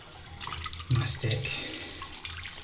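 Water runs from a basin tap after plumbing repair work, a steady hissing splash that gushes louder for a moment, with a brief spoken word in the mix.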